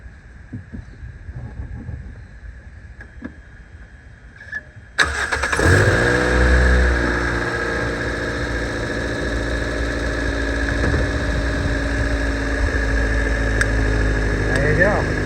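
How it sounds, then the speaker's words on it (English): Car engine on a dead battery cranks over with a jump starter and catches at once, then settles into a loud, steady idle that runs on for the rest of the clip after a quieter start with faint handling noises. "So I'm going to go in and start the engine."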